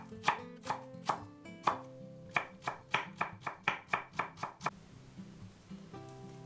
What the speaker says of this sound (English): 2 chopped garlic cloves. One minced shallot.